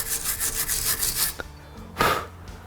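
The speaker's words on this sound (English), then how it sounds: "let's get the wire brush" Wire brush scrubbing rusty suspension parts from an S1 Lotus Elise, a close, harsh rhythmic rasping of repeated strokes that fades partway, followed by one louder scrape.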